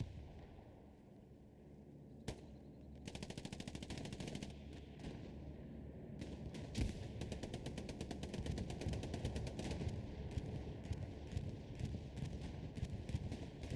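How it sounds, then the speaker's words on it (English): Heavy sustained gunfire and distant bombing rumble from an allied bombing run in the World War II game Hell Let Loose, dense rapid bursts rattling continuously over a low roar, with one sharp early crack. "I think that's an allied bombing run going in on the backside there"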